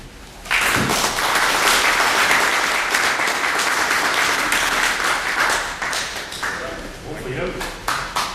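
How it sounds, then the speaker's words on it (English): Round of applause from a crowd at a book launch, bursting in after a short pause and holding as a dense, steady clatter of clapping before tapering slightly. "We should give him a round of applause."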